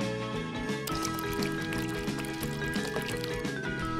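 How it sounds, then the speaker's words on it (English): Liquid resin hardener is poured into a mixing container for crafting pins, a close, soft, continuous trickling pour with faint glugging, and no talk. "grab your hardener and pour one part into your mixing container"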